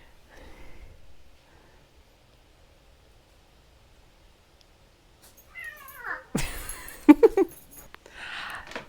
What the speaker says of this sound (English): These cats are so ridiculous.